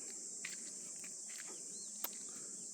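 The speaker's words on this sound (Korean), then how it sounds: "아침에 매미 소리도 들리고 새 소리도 들리고 참 좋습니다" Cicadas buzz in a steady high drone on a quiet mountain-valley morning, with faint scattered bird chirps and one brief click, all soft and distant with no talk.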